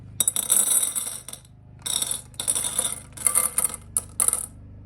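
Bright glassy clinking and rattling in several bursts with short pauses between, close and fairly loud, as glass beads are shaken in a cup while repotting a Zygopetalum orchid.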